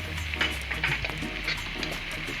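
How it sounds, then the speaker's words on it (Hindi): Ginger garlic paste frying in a pan while making chicken nihari, a steady low sizzle with faint crackles throughout, no voices. "इसको अच्छी तरह हम फ्राई करेंगे।"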